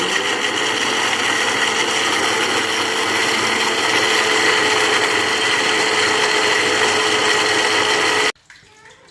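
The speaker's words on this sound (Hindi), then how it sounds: "5 मिनट तक जो है वो हम इसको ग्राइंड करेंगे अच्छी तरह से।" An electric grinder whirs loudly and steadily as it grinds garam masala spices into powder, a dense continuous buzz that cuts off abruptly near the end.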